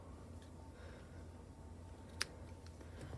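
A single quick snip of scissors cutting knitting yarn, a brief faint click standing out over quiet room hiss with no voices.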